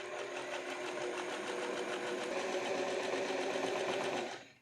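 A sewing machine runs a continuous stitch down a pants pocket opening seam, a close, steady rapid mechanical whirr that keeps one pace throughout before stopping abruptly at the end.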